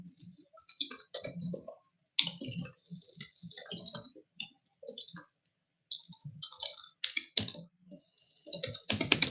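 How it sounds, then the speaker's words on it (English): Fast typing on a computer keyboard: bursts of rapid, crisp key clicks broken by short pauses, heard alone and close. "Furious typing."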